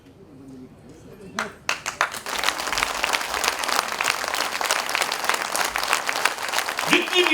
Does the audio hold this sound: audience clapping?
yes